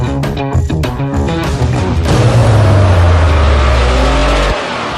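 A Porsche engine revs up close, its tone climbing then holding a loud sustained drone before cutting off sharply near the end.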